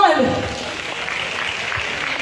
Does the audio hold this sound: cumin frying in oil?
no